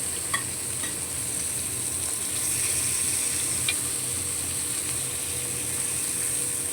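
Fish frying in a pan of hot oil gives a steady, close sizzle that runs unbroken throughout, with a few faint clicks and clinks on top and no talking.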